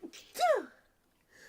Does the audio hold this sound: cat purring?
no